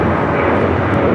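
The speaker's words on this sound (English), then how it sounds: "It's Alaska Airlines 798 taking off to Seattle on the 737-900ER." Alaska Airlines Boeing 737-900ER taking off at LAX, a brief, steady broadband jet roar heard from a distance, no talk.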